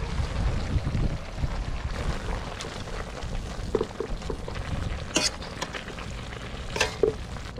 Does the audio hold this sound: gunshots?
no